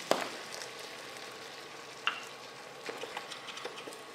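A pan of béchamel and cream sauce simmers over low heat with a soft, steady sizzle and faint bubbling, broken by a few light clicks and stirring taps, close by and quiet.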